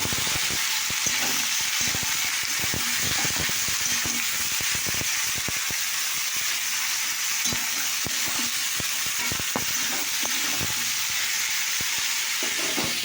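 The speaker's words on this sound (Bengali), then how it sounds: "এখানে তেল আছে, লঙ্কা দিলাম তেলে, পেঁয়াজ এটাকে দিয়ে দিয়েছি পেঁয়াজ" Chillies and onion fry in hot oil with a continuous close sizzle and crackle, broken by frequent sharp pops and a few stirring scrapes throughout.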